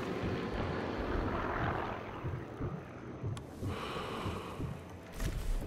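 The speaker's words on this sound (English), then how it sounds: "We've got an airplane that flies over like every 20 seconds." An airplane drones overhead in the Sniper Elite 3 video game, a continuous broad engine rumble that swells and fades slightly while staying steady in the background without speech.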